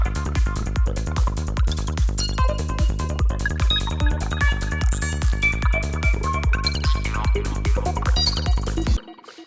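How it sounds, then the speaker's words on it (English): An Arturia MiniFreak plays a sample-and-hold lead, its notes jumping at random over a steady kick drum and bassline. The groove is dense and loud, pulsing in a regular rhythm before it cuts off abruptly at the end. "here we have a sample and hold kind of lead thing with some microcontrol with a kick and bass"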